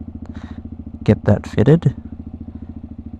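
A CFMOTO Papio SS motorcycle fitted with an Aliexpress slip-on exhaust idles with a steady, even pulsing putter throughout, while someone speaks briefly over it close by.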